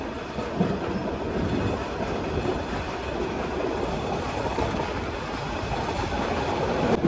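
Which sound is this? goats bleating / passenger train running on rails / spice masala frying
passenger train running on rails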